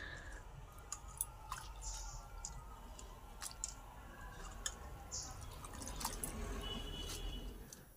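Cut leafy greens being washed by hand in water, with soft splashes, drips and wet squishing at close range, quiet and irregular, a few sharper trickles standing out.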